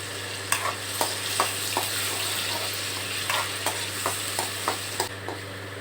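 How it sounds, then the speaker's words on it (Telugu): Onion, ginger and garlic paste fries in oil for a bottle gourd kofta curry, a steady close sizzle broken by regular scraping stirs about every half second. "ఆయిల్లో వేసి మొత్తం ఆనియన్ పచ్చివాసన పోయేంత వరకు ఫ్రై చేసుకోవాలి"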